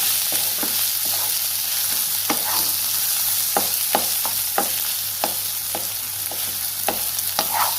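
Onions with a pinch of salt sizzling in hot oil for chicken curry, a constant bright hiss with a series of quick spatula strokes clicking against the pan, near and alone.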